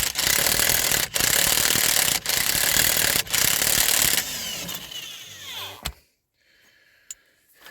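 A ratchet works a 36 mm socket back and forth on heavily rusted threads, a loud continuous clicking rasp broken by brief pauses, then fading to quiet with a couple of faint clicks and a knock.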